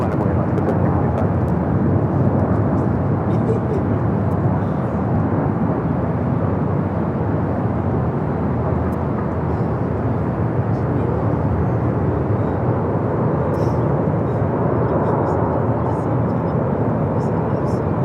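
An Alaska Airlines Boeing 737-900ER lining up on runway 24 left at Los Angeles International Airport, a loud, steady jet engine roar that persists unbroken throughout.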